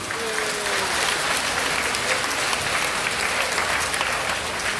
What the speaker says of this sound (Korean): 그분들에 대해서 큰 박수 한번 해주세요.